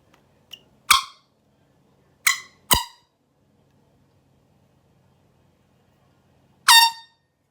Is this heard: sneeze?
no